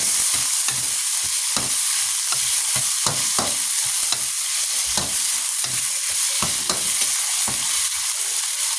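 Pancit noodles and vegetables are tossed in a hot pan, with steady sizzling broken by repeated scraping stirs and clinks of the utensil, close and fairly loud, no talking.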